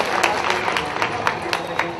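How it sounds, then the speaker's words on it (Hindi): Audience clapping for Raj Kumar Anjum at a book launch, an even patter of many hands with a few sharper claps standing out, steady and fairly loud throughout. "मैं तो ये चाहूंगा इस मंच से एक बार ऐसे व्यक्तित्व के लिए ताली बजा दूं"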